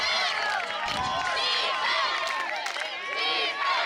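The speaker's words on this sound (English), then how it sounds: "A defense chant starting in the stands here." Crowd in the stands at an ultimate frisbee match chanting for defense, a continuous lively roar of many voices with rising shouts, moderately distant.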